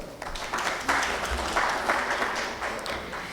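Audience applause at a national semiconductor conference in Delhi, a sustained wash of clapping from a seated crowd with slight surges, fairly loud and unbroken.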